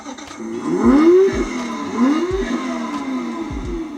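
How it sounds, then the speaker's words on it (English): A converted toy car's engine fires up with a loud, throaty exhaust, revving in a few rising surges and then settling into a rough, close idle. "this thing's got a mean exhaust"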